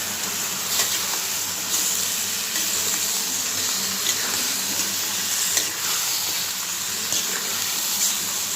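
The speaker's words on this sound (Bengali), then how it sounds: "মাংসটা একটু ভেজে নেব" Meat fries in a pan with turmeric and salt for a lentil curry, producing a loud, even hiss of sizzling oil that holds steady for several seconds with faint pops, alone and close.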